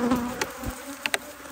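Honeybees buzzing around an opened hive, a steady close droning hum with a few sharper passes of individual bees near by.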